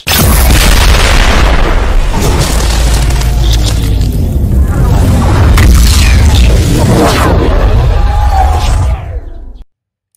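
A huge, continuous roaring boom from Killer Queen's Bites the Dust ability in the Roblox game YBA, loud and sustained for about nine seconds with crackling bursts before it cuts off abruptly.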